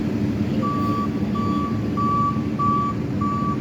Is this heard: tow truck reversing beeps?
yes